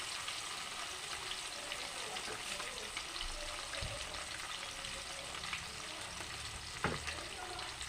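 Pieces of fish frying in hot oil in a pan for a Bengali fish curry with fenugreek and taro stems: a steady, close sizzle and crackle throughout, with a couple of brief utensil knocks.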